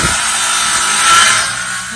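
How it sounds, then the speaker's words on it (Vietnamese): A saw cutting into a plant pot to make drainage holes, a loud, steady rasping stroke that swells briefly near the end, close up and alone. "anh cưa xong rồi còn đục nữa cả nhà, đục cho nó thoát nước á"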